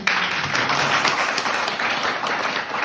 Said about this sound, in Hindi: और एक बार जबरदस्त तालियां चाहूंगी